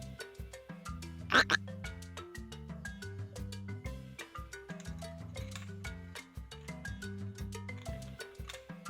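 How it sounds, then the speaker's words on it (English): A short cartoon frog croak over a bouncy children's alphabet tune, with the loud burst coming early and the music carrying on underneath. "F for frog."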